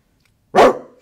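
A person imitates a dog with a single loud, close bark-like shout that lasts about half a second and fades out, with no other sound around it.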